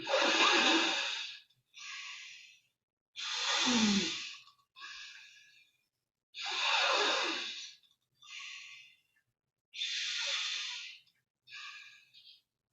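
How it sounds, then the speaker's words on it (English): Slow, slightly pronounced breathing through the right nostril in a quiet room, a close, soft rushing in-breath followed by a shorter out-breath, repeated about five times in an even rhythm with silent gaps. "breathing normally, slightly pronounced, breathing in and then letting go"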